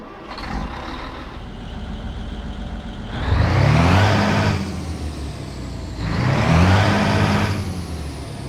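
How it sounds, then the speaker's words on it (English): A heavy Scania L6 diesel truck engine in Euro Truck Simulator 2 idles with a steady low rumble, then revs up twice in long swelling surges before settling back to idle. "that beautiful engine sound is by Jerry, and more specifically, the Scania L6 engine mod that is once again free and available on the Steam Workshop"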